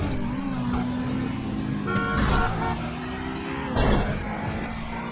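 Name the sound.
car driving in the video game GTA V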